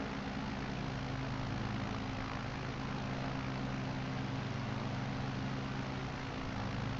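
Inside a flight simulator, a Zlin Aviation Savage Carbon propeller plane climbs with a steady, dense engine and propeller drone, loud and unbroken for the whole stretch, with no talk over it.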